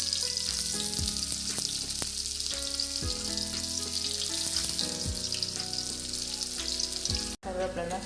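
Curry leaves sauté in a pan for a carrot stir-fry, producing a loud, continuous crackling sizzle close by, with music playing underneath throughout.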